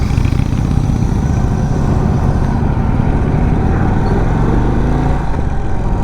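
An Indian Sport Chief cruiser motorcycle being ridden, its engine a steady, loud, close rumble throughout with no pauses or talk.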